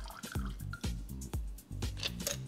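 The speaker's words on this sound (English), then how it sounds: "just use your julep strainer to hold the ice back in the mixing glass and give it a little pour into your absinthe rinse glass" A Sazerac cocktail is poured from a mixing glass through a julep strainer holding back ice into an absinthe-rinsed glass, giving short, quiet liquid splashes and drips in a few bursts.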